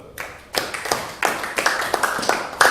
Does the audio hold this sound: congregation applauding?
yes